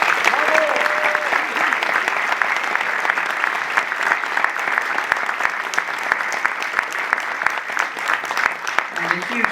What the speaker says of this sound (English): a huge round of applause for the director of the film, Stephen Orrick